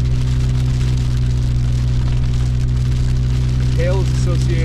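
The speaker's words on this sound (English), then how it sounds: "It's not hail, it's sleet." Sleet falling during a winter storm in Big Bear, a steady dense hiss of small ice pellets hitting surfaces over a constant low hum, with a few faint high chirps near the end.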